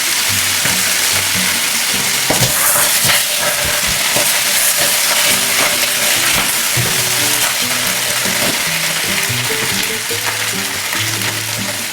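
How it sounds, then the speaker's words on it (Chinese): Chicken thigh and shiitake mushrooms stir-fried in a hot wok, a loud continuous sizzle with repeated scraping and clanking of the spatula against the pan in an uneven rhythm, close up and without talk. "把之前煎好的鸡腿肉倒回锅里，和香菇一起翻炒均匀"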